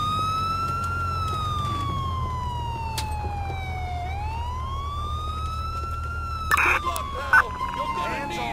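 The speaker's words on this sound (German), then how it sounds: "jetzt habe ich den Sirene angelassen, habe ich jetzt vergessen" A police car siren from Grand Theft Auto IV wails continuously and loudly, rising and falling in slow sweeps, with a few brief knocks and clatters near the end.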